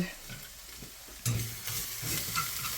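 An omelette sizzles steadily in a hot frying pan while a spatula nudges the egg around the edges, the frying growing louder and brighter partway through, close and continuous with no talk.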